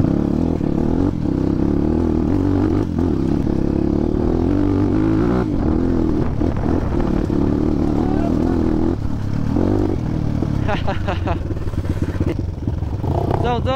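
An off-road motorcycle rumbles steadily on a ride to Dhap Dam in Nepal, its engine loud and close with rattling and clattering over rough ground, wind noise and a rider's voice.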